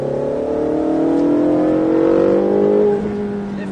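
A Ferrari engine on a track during a driving course, revving hard in a continuous rising whine that holds steady and loud, then eases off as the car lifts.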